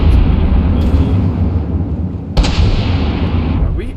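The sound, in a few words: cannon fire in From the Depths video game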